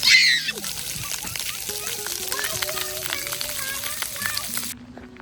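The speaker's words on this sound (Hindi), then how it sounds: "कल इतनी गर्मी थी और अब बारिश होने लग गई है।" Rain beginning to fall outdoors after a hot day: a steady, broad patter of drops and splashes runs throughout, with someone talking over it.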